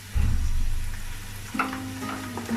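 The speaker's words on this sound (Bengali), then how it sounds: "নেড়ে দিচ্ছি ভালো করে। আদা রসুন পেস্টটা ভালো করে একটু কষিয়ে নিচ্ছি।" Ginger garlic paste frying with onions in a pan for a Bengali chicken curry, a steady sizzle with stirring scrapes, a low hum underneath and a brief tonal clatter near the end.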